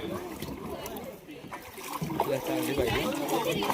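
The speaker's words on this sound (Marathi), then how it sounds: "आता ही बोट निघाली त्याच्यानंतर आपली वाली" A motorboat pulls away at sea off Nivati beach near Vengurla, its engine and water wash a steady broadband rumble that builds and grows louder, with people talking over it.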